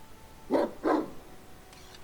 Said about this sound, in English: Shut up, Zeke, you stupid dog